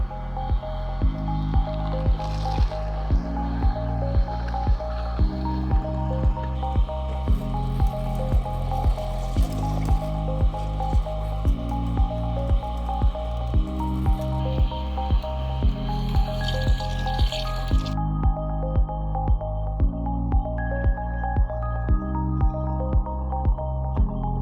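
An Angel juicer fitted with a coarse screen grinds kiwi, strawberries and pineapple, a steady repeating squishing, ratcheting churn with regular pulses, close and continuous without talk.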